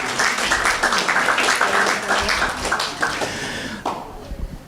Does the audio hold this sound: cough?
no